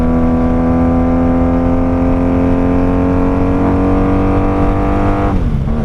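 A 1995 Honda motorcycle with Jardine exhaust pipes, engine running at part throttle as a loud, close, steady drone that climbs slightly in pitch before briefly dropping at the end.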